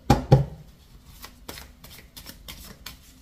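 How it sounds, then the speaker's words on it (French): Tarot cards shuffled and dealt onto a table: a sharp riffling burst up front, then a string of soft slaps and flicks as the cards are set out one by one, close and clear. "On va mettre les cartes."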